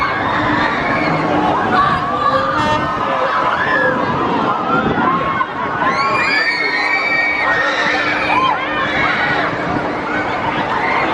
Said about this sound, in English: watching people scream on this thing.